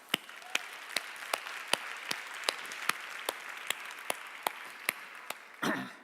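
Warm applause from a summit audience at a women-in-tech conference, a steady wash of clapping punctuated by regular, sharper individual claps, fairly close and even in level, with a brief rustle near the end.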